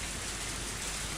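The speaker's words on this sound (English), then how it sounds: "It's very late and raining very hard" Heavy rain pouring late at night in the Higurashi game, a steady, dense wash of drops with no voices over it.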